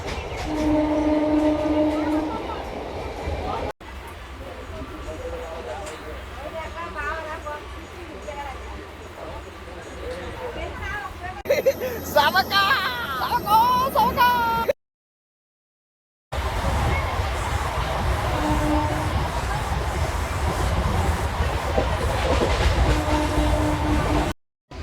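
A train at Kotabommali railway station in India gives a loud, rumbling pass with repeated horn blasts, near and continuous, broken by a short silent gap, with voices at times.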